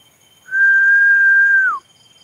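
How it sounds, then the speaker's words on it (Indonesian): A single sustained whistled note, clear and close, holds steady for about a second before sliding down at the end. "Saya siul-siul nih."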